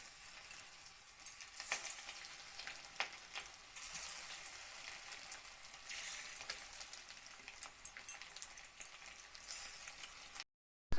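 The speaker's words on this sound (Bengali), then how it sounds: "এইভাবে মাছকে ভাজা করতে লাগবো" Bhetki fish fries in hot oil in a kadai for a Bengali rup shundori dish, giving a soft, steady sizzle with scattered small crackles and pops. The sound is fairly faint and stays even until it cuts off abruptly near the end.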